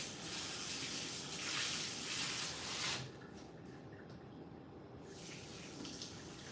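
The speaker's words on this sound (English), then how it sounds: "Let me wash my hands." Tap water runs steadily into a sink while hands are washed beneath it, a soft even gush that dips and changes texture partway through as the hands move under the stream.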